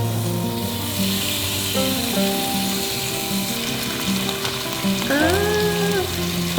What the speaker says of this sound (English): We're gonna start by heating up our skillet to cook our bacon.